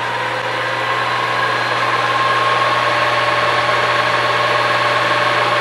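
The motor of a Monarch 10EE lathe spins steadily at about 600 RPM, giving a constant loud hum with a steady whine on top that never changes over the whole stretch.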